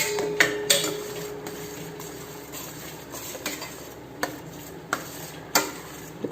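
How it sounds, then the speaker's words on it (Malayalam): Pazham pradhaman stirred in a pan while liquid is poured in little by little, giving soft continuous scraping with occasional sharp clinks of a spoon against the metal pan, close by. "ഇങ്ങനെ കുറേശ്ശെ ഒഴിച്ചു കൊടുത്തിട്ട് ഇളക്കിക്കൊണ്ടിരിക്കണം."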